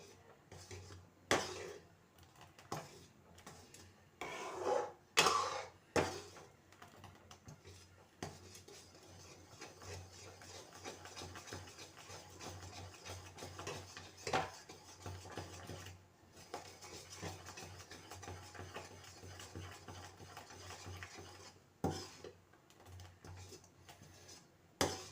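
Wheat halwa being stirred in a heavy-bottomed pan over a full flame: repeated scraping and clinking of a utensil against the pan, faint to moderate, with irregular louder knocks and no talking.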